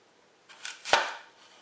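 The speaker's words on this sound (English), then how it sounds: "Now we're going to slice up our apple and toss it in there as well." An apple sliced with a knife on a cutting board, heard as two short crisp cuts close together, the second a sharper chop against the board, with no talk.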